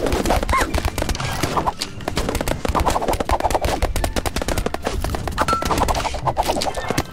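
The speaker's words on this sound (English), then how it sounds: "Time to go back to shooting people." Rapid gunfire from a video game shooting sequence, dense and continuous throughout with sharp repeated bursts over a busy game soundscape.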